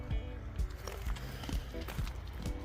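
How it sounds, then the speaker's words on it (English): A horse's hooves thud in an irregular prancing, trotting rhythm at moderate distance, faint and scattered amid background noise, at Montgomery Pass. "Horse is prancing away"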